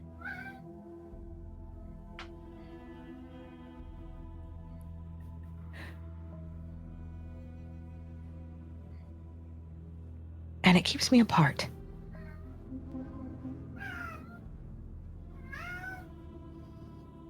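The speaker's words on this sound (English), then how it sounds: "I'm so sorry if you can hear the tiny cat in the background." A small cat gives a few high, thin meows, faint and scattered, while a person talks steadily over a soft background hum, with one brief loud rustle.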